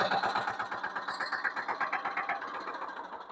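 A farm tractor's engine chugs at idle in rapid, even pulses, close and fairly loud, with a rough knocking rhythm and no talk over it.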